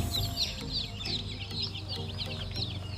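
Phu Phan black chickens cluck in repeated short, soft calls over a low background hum, several birds close by and fairly quiet, with no talk.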